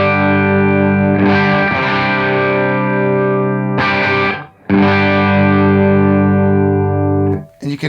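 Les Paul with humbuckers through a Universal Audio OX with room sound, ringing chords that sustain for several seconds, each swelling in with a chorus-like shimmer, close and loud, with no talking.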